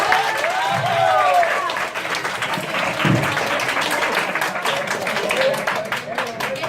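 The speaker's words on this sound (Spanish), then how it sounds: "un aplauso para él" Classroom applause for a student at a secondary school, a broad, steady wash of clapping that carries on for several seconds, with a teacher's voice speaking over it.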